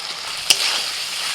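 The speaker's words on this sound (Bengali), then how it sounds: "এবার ভাজা সবজিগুলো দিয়ে দিচ্ছি" Fried eggplant, potato and ridge gourd go into a hot pan of water spinach chorchori, giving a brief clatter and then a steady, close sizzle of frying.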